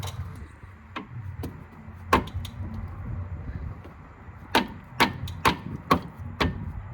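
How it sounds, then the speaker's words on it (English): Sharp metallic hammer blows on a spanner, loosening a nut on a Ford Focus Mk2 1.6 TDCi, ring out in irregular bursts, a few single knocks and then a quick run of strikes, over a low steady background hum. "let me use a combination of the spanner and the hammer."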